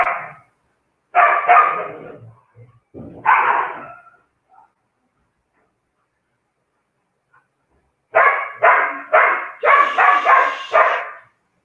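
Several dogs bark in bursts, a cluster early on and a denser run of overlapping barks near the end with a silent gap between, fairly loud and close, no talk over them.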